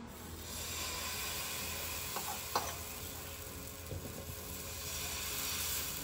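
Pancake batter cooks in a pan as a faint, even hiss with a few small ticks, heard close and without voices.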